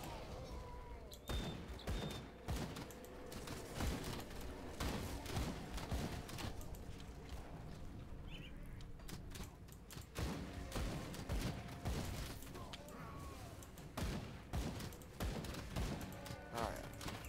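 Dense, continuous gunfire and impacts from the action RPG Grim Dawn, a busy clatter of overlapping shots and thuds that runs throughout with a voice talking faintly underneath.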